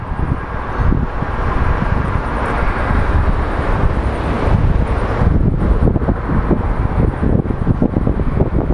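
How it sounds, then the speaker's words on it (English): Airliner taxiing at Sky Harbor Airport, a steady distant jet engine rumble blending with heavy wind noise on the microphone, continuous and unchanging throughout. "Taxiing across the way is our flight that came from San Antonio."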